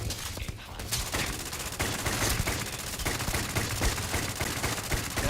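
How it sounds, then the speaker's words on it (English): Sustained rapid gunfire and bursts of automatic weapons in a Starfield space combat game, dense and loud throughout with overlapping shots and impacts. "That guy is taking some bullets."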